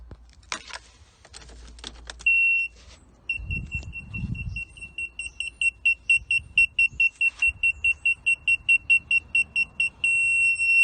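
A rear parking sensor buzzer fitted inside a car beeps in a rapid, evenly spaced series of high pitched tones after the car is put in reverse, preceded by key jangling and handling clatter.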